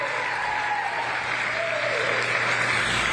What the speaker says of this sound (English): Let's give the kids a big round of applause,